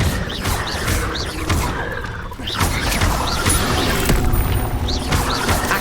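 A fire spell cast in the Hogwarts Legacy video game, heard as a burst of crackling, whooshing flame and impacts amid busy game effects with no voice.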